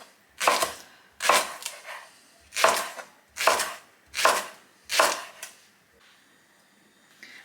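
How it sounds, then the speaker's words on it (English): Vegetables for rabbit pies chopped with a knife on a board, six or seven crisp, evenly spaced cuts, close and clear with quiet gaps between them. "not going to be too pernickety about chopping these up because they kind of melt into things anyway"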